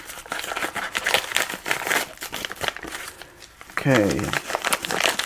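A plastic envelope package is torn and crinkled open by hand, with close, continuous rustling and a sharp rip near the end, under a person talking.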